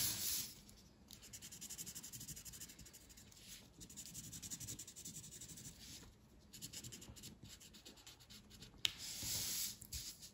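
A thick marker drags across paper in long, scratchy strokes, quiet and close, with brief pauses between strokes as stems and leaves of flowers are drawn.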